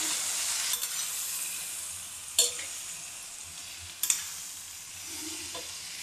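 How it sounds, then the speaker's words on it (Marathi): Potatoes and cluster beans frying in a pan while being stirred, with a steady sizzle and a few sharp clinks of the spoon against the pan, close and alone. "आता हे बघा मिक्स करून घेते मी चांगलं असं आलू आणि गवार फल्ली।"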